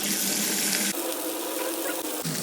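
Neypathal dough goes into hot oil, producing a steady, close, broadband frying hiss that continues without pause.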